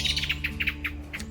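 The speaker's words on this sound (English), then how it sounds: "There's birds." Small birds chirp outdoors on a cool, fresh afternoon, a quick series of bright, faint tweets over a steady low background hum.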